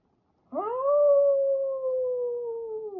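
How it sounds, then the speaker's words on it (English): A single long wolf howl rises sharply, then holds a steady, slightly falling tone for about two and a half seconds, clear and alone against silence. "What sounds do wolves make?"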